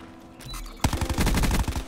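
Automatic gunfire in the video game Black Ops 4: a quiet lead-in, then a sudden loud, rapid burst of shots in a tight, even rhythm that continues to the end, with no voices.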